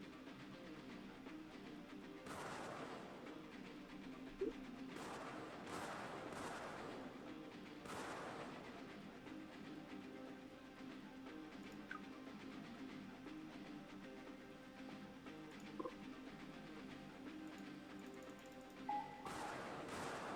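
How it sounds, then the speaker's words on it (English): Bombers strike targets in the strategy game ICBM: Escalation, heard as a few faint, scattered explosion bursts over a low, steady background hum. "And now it just wants us to bomb the hell out of them."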